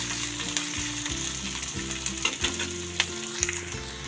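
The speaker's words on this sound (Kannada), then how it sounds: "ಈ ಚಟಪಟ ಅಂತ ಇದೆ. ಈಗ ಈರುಳ್ಳಿ ಹಾಕ್ತಾಯಿದ್ದೀನಿ." Onions frying in a hot pan with cumin, a crisp close sizzle and crackle punctuated by stirring clatter, loud and unbroken with no talk.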